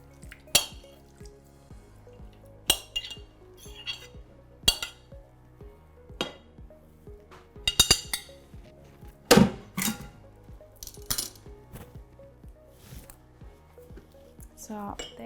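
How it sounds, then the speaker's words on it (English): Cooked, still-warm pumpkin is mixed with eggs and other ingredients in a bowl, giving sharp clinks of a utensil against the bowl at irregular intervals, with softer wet stirring sounds between. "Let's mix it with our eggs and the rest of the ingredients."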